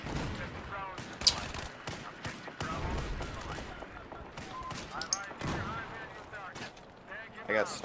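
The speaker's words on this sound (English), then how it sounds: "There's a lot of explosives going on" Dense gunfire and explosions rattle through a Battlefield 4 match, shots and blasts overlapping continuously with sharper cracks near the front, while players talk over the chaos throughout.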